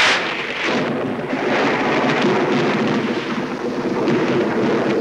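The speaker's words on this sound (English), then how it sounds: "The storm is brewing." Rumbling thunder of a brewing storm rolls on continuously for several seconds, dense and fairly loud, with no voices over it.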